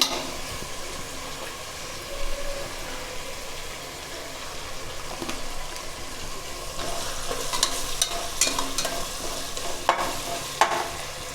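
Tomato and gongura leaves fry in ghee for a gongura chicken pulao, giving a steady mid-level sizzle while a spoon stirs and scrapes the pan with occasional clinks, alone and without talk.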